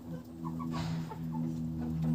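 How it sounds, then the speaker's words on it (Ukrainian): Faint chicken clucks and short squawks sound over a steady low hum, a few scattered calls in quick succession. "Чуєте, як кричать кури?"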